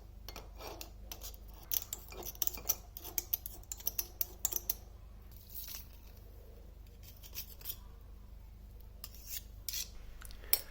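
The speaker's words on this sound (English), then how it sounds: "I now attempt to open the tin of chickpeas" A tin of chickpeas being opened in a home kitchen: a quiet, irregular run of small metallic clicks and scrapes close by, with short pauses between bursts.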